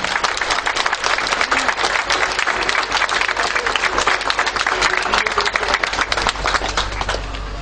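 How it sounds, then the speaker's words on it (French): An audience at a Cap d'Agde gathering applauds the politicians present, producing a sustained roar of many clapping hands that stays loud and even for several seconds. "Merci d'applaudir les hommes politiques qui sont ici."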